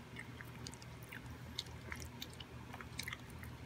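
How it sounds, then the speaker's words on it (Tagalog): Crispy fried noodles of Nagasaki sara udon crunch softly as they are chewed close up, a quiet run of small irregular crackles and bites with no talking. "Malutong-lutong yung noodles."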